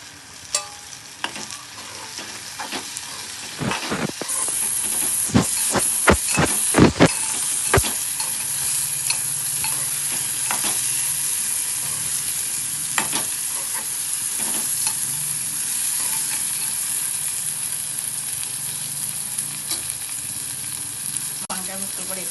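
Okra tumbles into a hot pan and fries with a continuous sizzle, with a burst of clattering drops and stirring knocks early on, then a steady crackling fry throughout.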